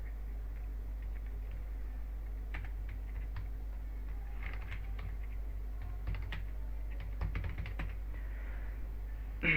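Keystrokes on a computer keyboard type text into an Excel admission form, coming as quiet scattered clicks in short bursts over a steady low hum.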